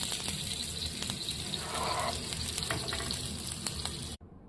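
Uttapam cooking with ghee in a covered pan over a slow flame gives a soft, continuous close sizzle with faint crackles, ending abruptly in silence.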